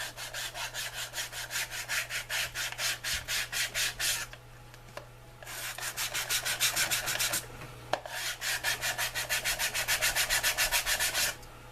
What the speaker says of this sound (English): So I'm just using a sanding block.